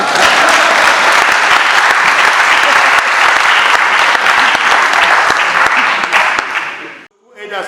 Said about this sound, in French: Applaudissez pour moi aussi.